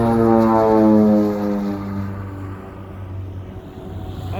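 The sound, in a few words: de Havilland Twin Otter floatplane taking off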